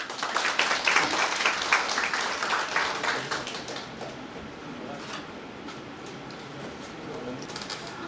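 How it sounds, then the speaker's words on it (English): An audience at a workshop on community forest rights in Northeast India gives a dense round of clapping that thins out and fades over several seconds, with a voice briefly heard behind it. "Please have a big clap."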